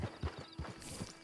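A horse's hooves clip-clop at a steady walking pace in the Red Dead Online video game, with soft, regular thuds that are fairly quiet and close.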